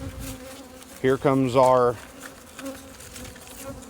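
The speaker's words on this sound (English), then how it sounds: "There's our box of bees." Honeybees hum in a steady, close buzz around an open beehive box during a formic acid mite treatment, while someone speaks briefly over the swarm.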